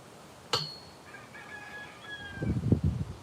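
A rooster crows at a distance outdoors, a single drawn-out crow following a sharp click, then a louder burst of muffled rustling close by.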